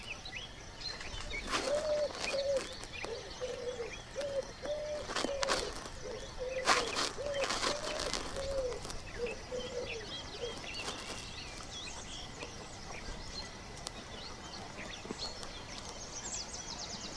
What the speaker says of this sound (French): Un pigeon ramier pour nous faire patienter.